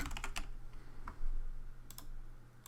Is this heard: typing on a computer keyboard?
yes